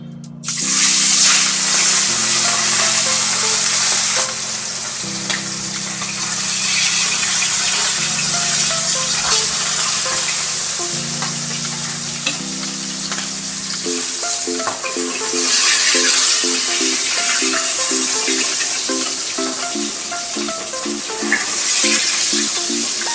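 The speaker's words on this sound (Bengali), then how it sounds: "গরম তেলটা আমি কড়াইয়ের চারদিকে লাগিয়ে দিলাম। এবার আমি মাছগুলো দিয়ে দেবো।" Pieces of katla fish fry in hot oil in a wok with a loud, steady sizzle and bubbling that runs throughout under background music.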